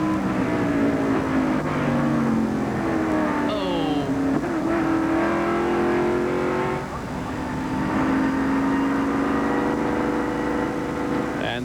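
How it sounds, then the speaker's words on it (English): A 1997 Busch North series stock car lapping Watkins Glen International, heard from on board: a loud, steady engine drone drops in pitch as it brakes into a corner, then climbs again as it accelerates out. "And this is riding along with Ted Christopher as he goes in the corner"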